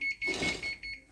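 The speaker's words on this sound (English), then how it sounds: "Okay, the oven is ready. It just beeped." A kitchen oven beeping to signal that preheating is done: a short series of clear electronic beeps, moderately loud and close, with no voices.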